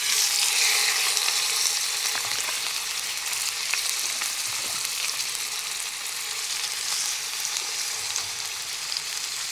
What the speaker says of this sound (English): Two nice steaks gone in, nice hot pan